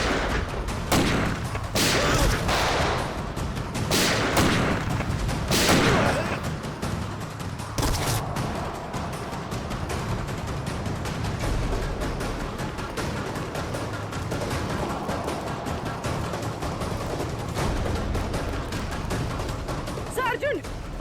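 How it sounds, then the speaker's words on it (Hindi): Gunfire breaks out in a scene from a TV crime drama: a run of loud, sharp shots in the first few seconds, then a quieter, rumbling stretch with voices. "तो गोलियां चल रही हैं।"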